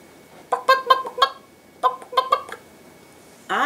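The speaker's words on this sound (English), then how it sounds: "I hear a chicken." A hen clucks in two quick bursts of short, throaty notes separated by a brief pause, clear and close, followed by a rising squawk at the end.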